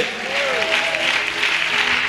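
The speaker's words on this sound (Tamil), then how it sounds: "நல்லா கைத்தட்டி கர்த்தருக்கு சகோதரர்கள்லாம் நல்லா முழு பலத்தோடு," A church congregation applauds during a Tamil worship service, a steady wash of clapping sustained throughout with a faint tone drifting beneath it.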